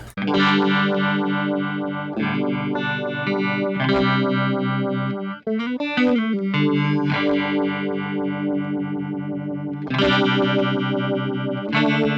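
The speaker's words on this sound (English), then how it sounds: "So this is the Univibe." Electric guitar chords and a short melodic run played through a swirling, throbbing Univibe modulation, continuous and loud with no talking.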